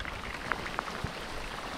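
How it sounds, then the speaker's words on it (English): Light rain falling while the sun shines in the Amazon rainforest of Guyana, by the Berbice River: a faint, soft patter with a few distinct drops landing clearly, and no voices. "Most beautiful rain you can ever see"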